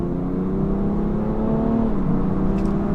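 A BMW 335d xDrive in Sport Plus mode accelerates hard, its engine note rising steadily as a loud, continuous drone heard from inside the cabin.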